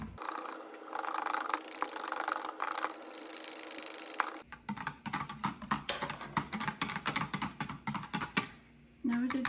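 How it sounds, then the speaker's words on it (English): Unflavored gelatin whisked into boiling hot water in a bowl, a wire whisk scraping and clattering in quick, uneven strokes after a steadier stirring stretch, close and fairly loud. "And I'm just gonna whisk this."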